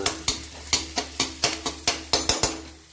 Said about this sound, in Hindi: हम लोग मैगी के लिए प्याज और हरी मिर्च को फ्राई करते हैं।